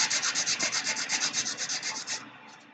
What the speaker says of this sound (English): get my Sally Beauty Supply sanding stick here